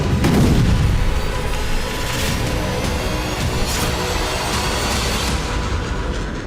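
Explosions from a bombing raid on Gaza. A heavy, rumbling boom opens the sequence and decays into a sustained, dense roar of distant blasts and rolling noise.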